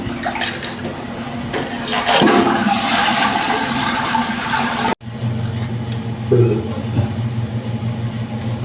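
A toilet bowl with a leak inside is flushed to drain its water, a steady rushing flush under background noise that cuts off briefly and then resumes with a gurgling refill.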